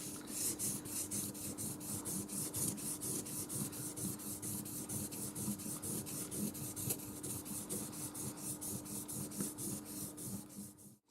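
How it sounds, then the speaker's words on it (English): The flat back of a mokuhanga hangi-tou carving tool is rubbed back and forth on a sharpening stone, a steady rhythmic scraping of quick strokes, close and fairly quiet. "And now we'll also grind the back of the tool,"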